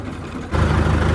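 A tractor engine catches after a quiet start, jumping abruptly to a loud, low, rumbling idle that stays steady and close.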